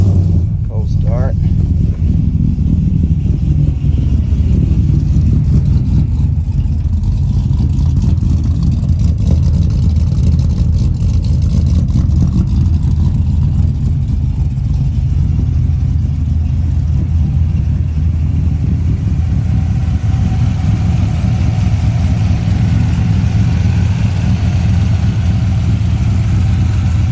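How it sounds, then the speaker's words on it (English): A ZR71 truck engine cold-starts and settles into a steady, loud, rumbling idle that runs continuously, close to the microphone. "do a quick little cold start"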